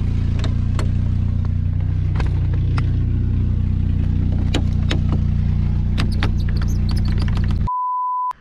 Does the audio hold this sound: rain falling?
no